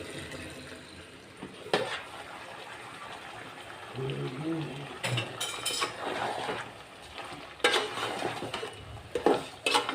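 A spoon stirs meat curry in a pot, giving a few scraping and clinking strokes with a faint sizzle underneath, while people talk nearby at a low level.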